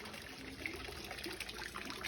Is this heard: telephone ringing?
no